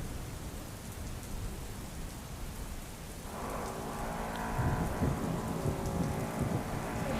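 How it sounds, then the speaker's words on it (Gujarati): Heavy, steady downpour in Surat during monsoon flooding, a dense continuous hiss that swells louder partway through, with distant rumbling beneath and no voices. "વહેલી સવારથી અનરાધાર વરસાદ વરસી રહ્યો છે"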